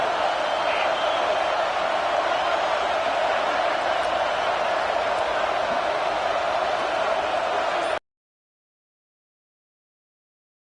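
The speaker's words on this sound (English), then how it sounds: "The Tide crowd rolling noise down onto Saban Field on third down." A dense, steady roar of a large college football stadium crowd on third down, loud and continuous for about eight seconds, then cutting off abruptly into silence.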